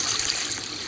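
An indoor waterfall in a mansion gives a brief, steady rush of flowing, splashing water, heard close and alone.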